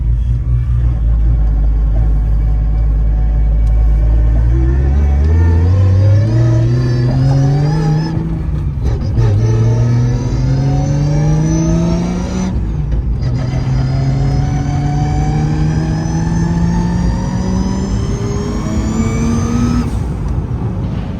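An RB26-powered Nissan R33 sedan with a straight-cut gearbox accelerates hard through several gears, loud and close, the engine note climbing in pitch with each pull and dropping briefly at each shift, with gear whine over the roar.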